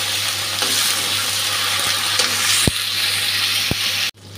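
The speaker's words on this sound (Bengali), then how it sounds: "বেগুনটা ভাজা হয়ে গেছে," Eggplant seasoned with turmeric and salt fries in oil with a steady, fairly loud sizzle, broken by two sharp utensil clicks near the end before the sound cuts off abruptly.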